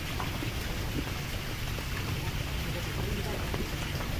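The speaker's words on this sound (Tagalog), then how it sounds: "Malakas ang ulan" Heavy rain pours down during flooding, making a steady, dense, close hiss that does not let up at any point.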